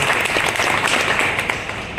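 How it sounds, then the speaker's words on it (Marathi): A crowd claps loudly and continuously at a felicitation ceremony, a dense burst of applause. "याच्याकरता एकदा जोरदार टाळ्या"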